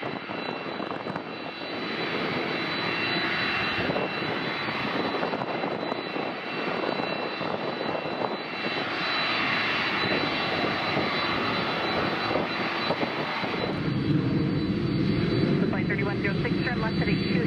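A CRJ regional jet landing at Minneapolis airport: a steady, moderately loud jet engine roar that persists throughout, with air traffic control radio talk over it.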